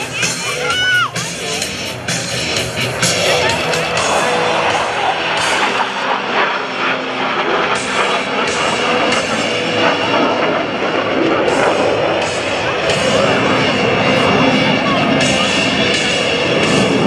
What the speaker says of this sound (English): snap the F-16 through a series of aileron rolls, demonstrating its exceptional roll maneuverability